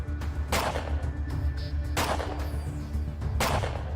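Gunfire in the video game ATOM RPG: three sharp, loud shots spaced about a second and a half apart over a steady low game ambience, with no talk.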